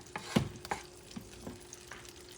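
Shrimp searing in a pan, a soft continuous sizzle broken by several scraping stirs and clacks of a utensil, close and fairly quiet.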